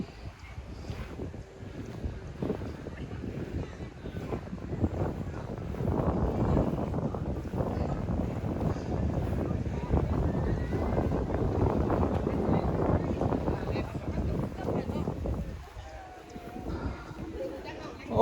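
Outdoor wind blowing through trees, a steady broadband rush that swells and gusts across the microphone for most of the stretch and eases near the end.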